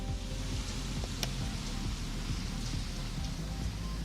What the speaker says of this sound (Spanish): ahora está lloviendo con mayor intensidad